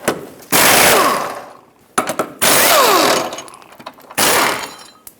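Impact wrench removes 19mm control arm bolts and a mounting nut on a 2018-2023 Subaru Crosstrek in three loud, close bursts of whirring and hammering, separated by short pauses with small clinks.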